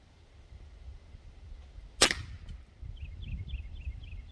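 A single sharp crack from a Diana Bandit air pistol being fired, close and loud, followed by a short ringing decay and some faint chirping beeps afterward.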